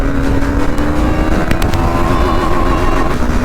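A KTM Duke 390 motorcycle being ridden, its engine droning steadily and close up with a sustained tone, mixed with road and wind noise throughout.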